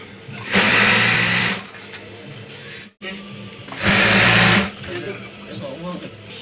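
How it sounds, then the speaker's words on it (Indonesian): Sewing machine stitching a foam-layered bedsheet, running in two loud, steady whirring bursts separated by quieter pauses while a person talks. "Sekarang kita akan menjahit di bagian lebar 180 nya."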